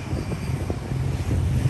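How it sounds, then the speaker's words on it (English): A big engine heard outside a hotel, a low droning rumble with wind buffeting, steady and moderately loud as it passes by. "If you can hear it, it's a big engine."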